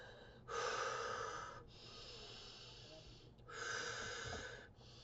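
Slow, heavy breathing during an active stretch, two long audible breaths with a pause between, close and fairly quiet.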